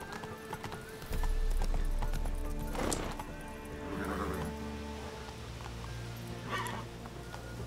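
Horse hooves clip-clop steadily at a gallop in the video game The Witcher 3: Wild Hunt, with a low rumble beneath, moderately loud and continuous.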